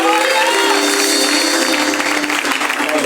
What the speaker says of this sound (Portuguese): as palmas louvem o nome do Senhor